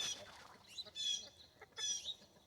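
Orpington chickens clucking and gurgling in a backyard coop, with soft, fairly faint clucks and throaty warbles in two or three short bursts.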